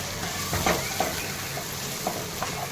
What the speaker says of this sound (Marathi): जिरी मोहरी कांदा हे छान परतून घेत आहे